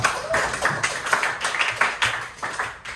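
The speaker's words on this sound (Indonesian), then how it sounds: "Tepuk tangan buat Dea dulu." Brief clapping in a high school physics classroom for a student named Dea, a scattered burst of hand claps from the class that lasts a few seconds.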